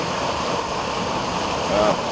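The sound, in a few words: small stream from the Boyana waterfall flowing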